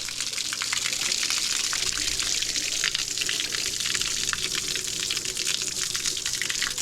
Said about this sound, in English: That is how you flush the block of your engine and flush all that debris that's fell down in that block.